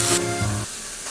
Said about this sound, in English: Next, we'll sear the steak.